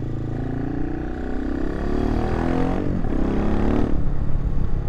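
AJP PR7 single-cylinder thumper motorcycle revving, a loud close rumbling engine note rising and falling steadily throughout.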